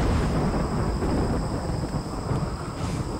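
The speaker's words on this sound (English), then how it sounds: "Oh god, that lightning is scaring me." Thunder from a lightning storm in the video game RimWorld rolls as a dense, continuous rumble with a rain-like hiss. It sounds loud and steady throughout, with no one speaking.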